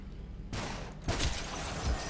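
Gunfire in the slow-motion shooter video game Superhot, a few muffled, punchy shots over steady game ambience, with brief thumps near the start and midway.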